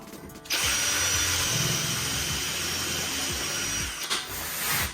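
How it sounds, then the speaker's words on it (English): A power drill starts up after a brief pause and whirs loudly and steadily for several seconds, dipping briefly near the end before spinning on. "I want these holes in position before I drill this one."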